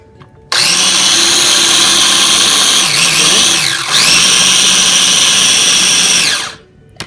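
Food processor chopping fresh basil for pesto, a loud close motor whir that starts abruptly, runs steadily with a brief dip in pitch partway through, then winds down after about six seconds.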